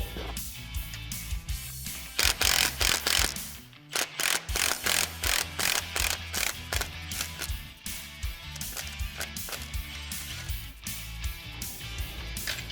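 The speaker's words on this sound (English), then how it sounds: "Now we're going to remove our ball joint pinch bolt." A hand ratchet clicks off the ball joint pinch bolt on a Polaris RZR Pro XP, rapid rhythmic ratcheting strokes in bursts, close and distinct, with short pauses between runs.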